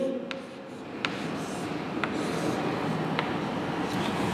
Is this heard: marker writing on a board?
yes